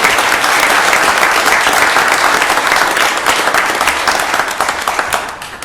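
A county board of supervisors meeting audience gives loud, dense applause that fills the room and holds steady before tapering slightly at the end.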